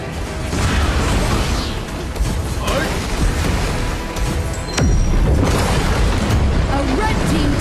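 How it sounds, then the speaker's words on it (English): Tower destroyed in the mobile game Arena of Valor (RoV): loud, dense booming crash with a sustained rumbling burst that swells again near the end, heard alongside game announcer voice and effects. "A red team tower has been destroyed."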